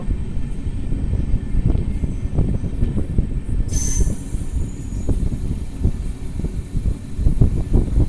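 A passenger express train on new coaches rolls into Madhira station, with loud rumbling wheels, rhythmic clatter over rail joints and a brief high squeal of wheels, close and continuous.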